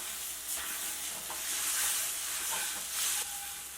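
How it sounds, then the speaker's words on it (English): Sugar syrup poured into moong dal halwa as it cooks, a soft continuous hiss and sizzle with light splattering and occasional stirring, close but fairly quiet. "we are going to add the sugar syrup slowly because it will splatter"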